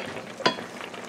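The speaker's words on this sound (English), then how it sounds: "We're gonna uncover it, give it a quick stir," Tilapia curry stirred in a pot, a single quick scrape of the spoon standing out over a faint low simmer, brief and fairly quiet with no voices.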